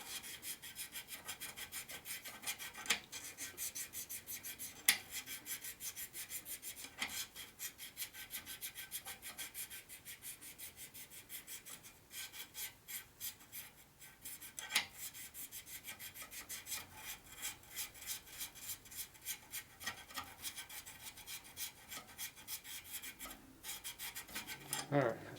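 Hand lapping of the valves on a 1947 Harley-Davidson EL 74ci knucklehead engine, grit compound grinding under a steady back-and-forth rasping rub with small clicks, close up and continuous throughout with no talk.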